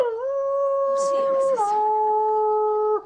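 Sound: person imitating a dog howling at the moon

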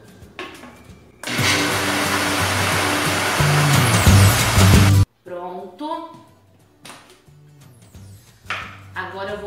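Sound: blender mixing gelatin dessert

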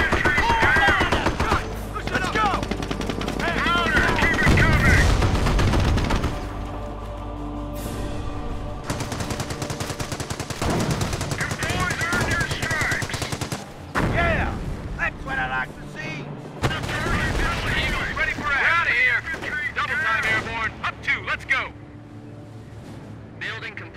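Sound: gunfire in Company of Heroes video game battle

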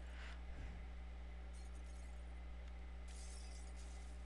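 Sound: glass shattering in the Happy Wheels video game

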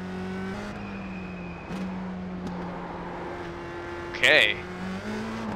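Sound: USF2000 race car engine driving, from video game iRacing

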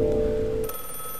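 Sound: telephone ringing in the video game The Last Time

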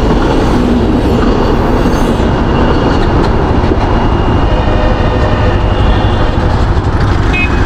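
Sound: train passing at a railway crossing

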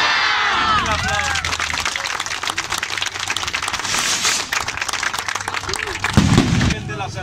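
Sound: crowd applauding and cheering at festival

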